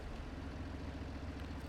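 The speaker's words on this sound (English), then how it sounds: "Start the engine" A tractor engine idles in Farming Simulator 22, a steady low rumble with a broad, even hiss over it and no voices.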